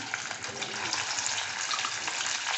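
Ground onion, garlic and ginger masala for Khandeshi mutton rassa sizzles in hot oil, a steady loud hiss and crackle with a watery wash running throughout, no voices.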